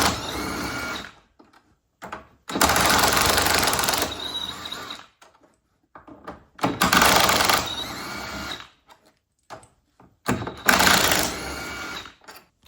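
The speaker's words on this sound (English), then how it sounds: "these are pretty long, they're pretty tight, so we're gonna use an impact" Half-inch impact wrench removing long, tight 8mm bolts while taking the mirrors off a 2021-2023 Ford Bronco: three loud, close buzzing bursts of a few seconds each, separated by quiet gaps and short blips.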